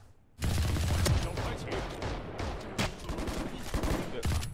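Sustained rapid gunfire in Valorant Mobile, a dense stream of loud automatic shots bursting in and continuing with sharper cracks throughout, with no talk over it.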